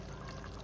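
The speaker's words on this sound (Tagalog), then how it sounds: "lagyan lang natin siya ng patis" Fish sauce (patis) is poured into a cooking dish, a brief soft steady liquid stream, faint and close, with no talk.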